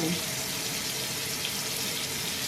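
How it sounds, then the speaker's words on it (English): Water from a kitchen tap running steadily into a sink to rinse raw salmon, a close, even, continuous hiss and splash throughout. "I'm just gonna turn the water on so I can rinse it, like kind of wash it off"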